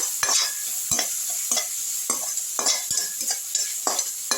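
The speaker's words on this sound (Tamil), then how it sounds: "நல்லா வதக்கி விட்டுடலாம்" Onions sizzle in a hot pan on lowered heat while a spoon scrapes and stirs in a steady rhythm, close up, with no talking, while cooking bitter gourd thokku.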